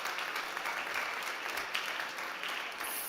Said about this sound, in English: can we have a huge round of applause for our great judges and all of the finalists?